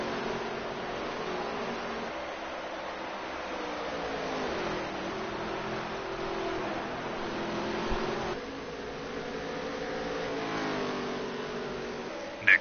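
Several race cars battle for the lead on a dirt oval in a racing video game, their engines making a steady, full drone that rises and falls with throttle and stays loud throughout without a break.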